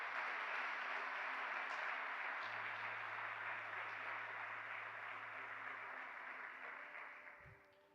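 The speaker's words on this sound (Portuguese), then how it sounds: "Você pode aplaudir a Ele, glorificar Ele por isso?" A church congregation applauds at a moderate distance, a soft, continuous patter of many hands that slowly fades toward the end, with a low sustained keyboard tone underneath.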